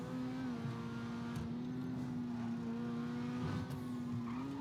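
Grotti Furia sports car in a driving video game, its damaged engine humming with a steady whine and faint ticking, quiet and continuous throughout.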